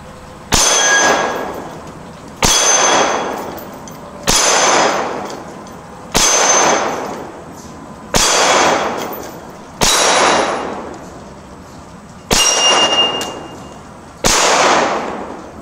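Eight loud, evenly spaced shots from a Rock Island Armory FS Tac Ultra .45 ACP pistol on an outdoor range, each with a sharp metallic clang as it strikes a small steel target and a short ringing decay.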